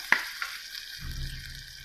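Two large spoonfuls of butter sizzle and crackle softly as they melt in a hot pan for meatball lasagna, with a faint clink of a utensil near the start.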